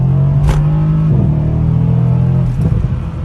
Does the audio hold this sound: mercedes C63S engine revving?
yes